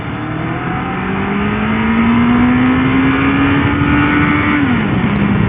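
A motorcycle revs hard in first gear toward the rev limiter, its engine note climbing steadily and loudly for several seconds before dropping off near the end.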